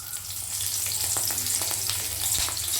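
Whole spices and green chillies hit hot mustard-style oil left over from frying a hilsa fish head, giving a steady, close, bright sizzle with faint crackles and no talking.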